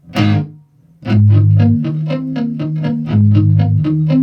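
A heavily processed electric guitar plays a short melodic phrase, notes thick with distortion and chorus-like shimmer, ringing out loud and close.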